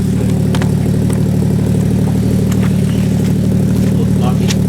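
Car engine idling with a deep, steady rumble, loud and close, holding an even throaty tone throughout with faint clicks and ticks on top.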